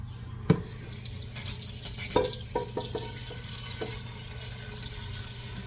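Tap water runs into a cooking pot in a kitchen, a steady hiss of filling broken by a few brief clanks and knocks of the pot, with no talking.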